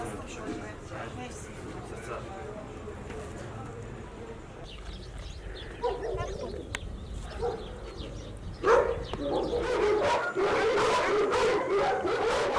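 Several dogs bark and yelp at a distance, growing busier and louder toward the end, mixed with howls and whimpers over a noisy outdoor background.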